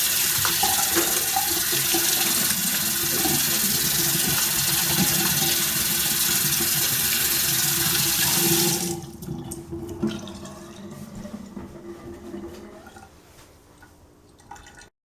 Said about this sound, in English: before you begin, you should wash your hands